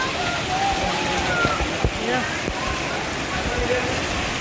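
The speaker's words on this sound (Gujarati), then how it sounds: "આમ જો હું તમને મારા શેરીનો વરસાદ બતાવું" Continuous rush of rainwater splashing and flowing down a street, a steady wash of noise with a few faint knocks, no clear speech.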